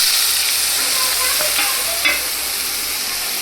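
Chopped onions sizzle and fry in hot oil in a pan with asafoetida and curry leaves for an eggplant curry, a steady loud hiss with a couple of faint stirring scrapes and no voices.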